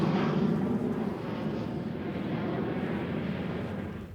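A fixed-wing airplane passes over old Fort Mifflin on the Delaware River beside Philadelphia airport, a loud steady jet roar and rumble filling the whole stretch alone, easing slightly toward the end.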